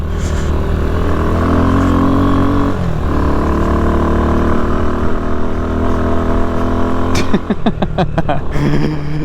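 A motorcycle bought online and fitted with street tires is ridden hard, its engine drone loud and steady with wind noise, then it rises and falls in quick revs near the end.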